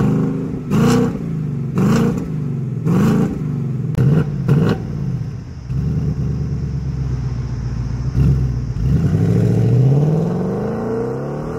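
A 2020 Ford Mustang GT with its 5.0 V8 in Sport Plus mode revs hard in a series of loud, close blips, then settles into a deep idle before one longer rising rev.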